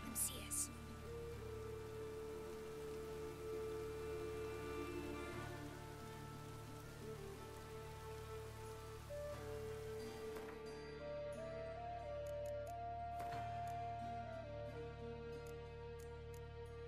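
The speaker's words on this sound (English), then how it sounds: "Rain, I like rain." Steady rain from The Witcher 3: Wild Hunt patters beneath game music and speaking voices, a continuous soft hiss running the whole way through.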